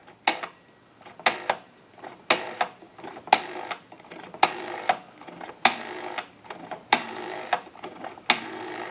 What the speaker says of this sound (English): Now what we want to do is go ahead and dial our numbers out.